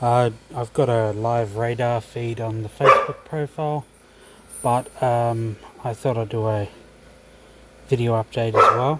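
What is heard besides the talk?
dog barking in the background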